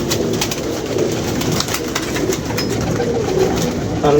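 Pigeons coo steadily and loudly up close, their low murmuring calls overlapping in a dense, continuous flock chorus.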